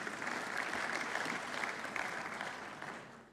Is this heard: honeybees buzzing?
no